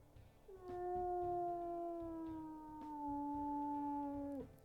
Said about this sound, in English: we'll go ahead and we'll listen to her howls as well